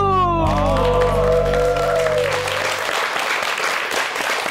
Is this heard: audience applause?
yes